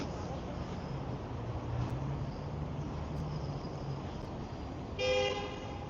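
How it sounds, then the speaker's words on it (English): Distant traffic hums steadily in Boston, then a single short car horn toot sounds near the end. "You will hear lots of people honking."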